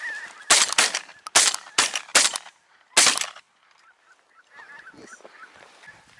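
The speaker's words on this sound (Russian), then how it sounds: "Гуси везде." Geese honking repeatedly from a flock on a spring hunt, with loud bursts of broadband noise, likely gunfire, between calls; clear, fairly close goose calls continue after the shots.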